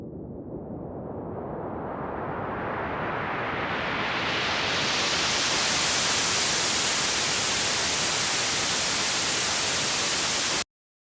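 Synthesized noise covering a broad range sweeps upward, starting dull and growing steadily brighter and hissier until it cuts off abruptly, with no pitch and no voices.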